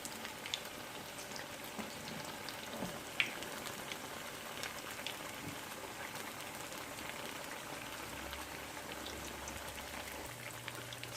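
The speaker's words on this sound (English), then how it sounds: "So while this last one is frying" Akara bean fritters sizzle in hot oil with a steady, dense crackle and fine popping, close and fairly quiet, carrying on without speech.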